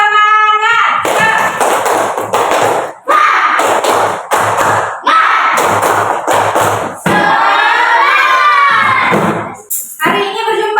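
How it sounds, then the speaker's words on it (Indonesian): A classroom of pupils performs a rhythmic spirit clap, sharp bursts of clapping in a patterned beat alternating with loud chanting and shouting voices, close and energetic. "Tepuk semangat."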